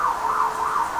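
Fire engine sirens wail loud and close just outside an office, a steady rising-and-falling electronic tone filling the moment with no voices over it.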